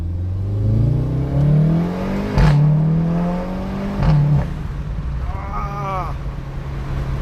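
A VW Golf 7.5 R with 310 hp and DSG gearbox revs up through rising gear pulls, with a brief drop between shifts and a steady performance-exhaust drone; road and wind noise underneath.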